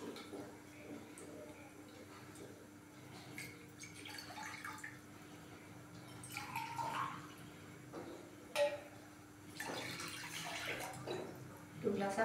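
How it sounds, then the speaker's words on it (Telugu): Water is poured into a pot on a stove to prepare for steaming fish, faint splashing and trickling that comes in a few short bursts with quiet gaps between them. "వాటర్ యాడ్ చేశాను"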